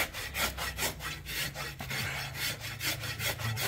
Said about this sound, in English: And then we'll come in with our rasp.